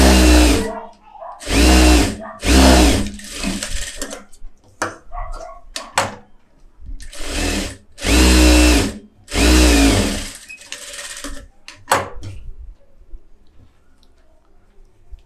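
A sewing machine runs a rough tacking stitch through fabric in a tailor's workroom. Loud bursts of motor whirring come one after another with short pauses between them.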